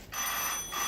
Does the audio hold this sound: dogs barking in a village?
no